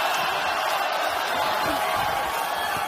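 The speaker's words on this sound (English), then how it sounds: "you hear the crowd chanting Oscar Valdez's name" A boxing arena crowd chants Oscar Valdez's name as a dense, steady roar that continues without a break, loud and unbroken, with a commentator's voice running underneath.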